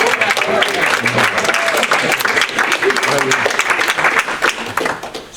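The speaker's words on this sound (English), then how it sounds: "go ahead and give yourselves a round of applause" Applause from the audience at a County Republican Men's Club evening meeting, a dense, steady wash of many hands clapping that holds loud for several seconds before starting to thin toward the end.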